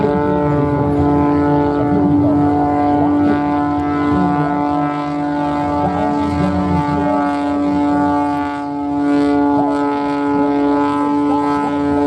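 An airplane's engine holds a steady, loud droning roar with a sustained tonal hum as the plane hovers at an air show, continuous throughout with some wind buffeting, no voices.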